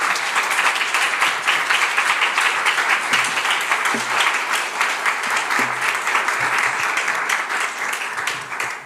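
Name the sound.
audience applause welcoming a missionary in church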